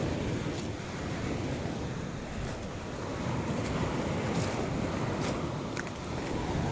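Floodwater washes over a submerged path in a steady, rushing wash of water, heavily buffeted by wind noise on the microphone, with no talking.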